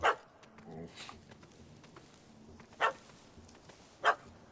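A puppy gives three short, sharp barks spaced a few seconds apart, loud and fairly close, with soft background sound between them.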